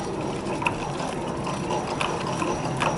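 A hand wheel on a museum aircraft exhibit is turned, giving a quick run of rattling, ratchety mechanical clicks. They sound close against a busy, echoing hall background, with no clear speech.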